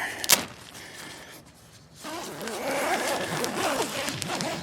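A tent door zipper on a Naturehike Daban 2 ultralight tent is pulled open in a long, rasping stretch, close by, with some rustling of fabric.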